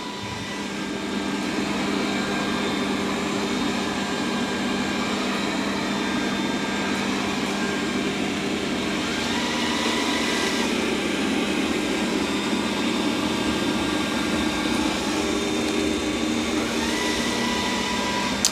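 A Roborock Q5 or Dreame D10 robot vacuum and mop runs across a floor working over a stain, giving a steady, close motor whine and airy hum that holds evenly throughout without talk.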